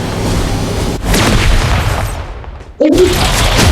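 A grenade blast in the mobile battle-royale game PUBG Mobile: loud, close booms and crackling bursts that cut out briefly, then a sharp new burst hits near the end.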